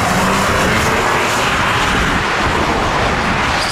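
A turbocharged car engine roars loudly and steadily for a few seconds, a continuous broadband rush with no voices over it.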